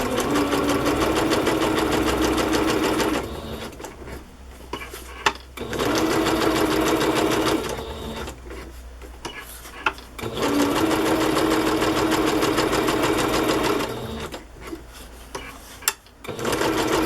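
A sewing machine stitches around the edge of a paper journal page decorated for Halloween, its steady motor buzz running in three long bursts with short pauses between them.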